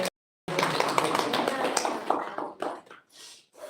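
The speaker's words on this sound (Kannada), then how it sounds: "ಒಂದು ಜೋರಾಗಿ ಒಂದು ಚಪ್ಪಾಳೆ ಹೊಡಿರಿ" A group at an ashram claps for a birthday, with a dense burst of close applause lasting about two seconds before it thins into a few scattered claps, while a voice speaks over it.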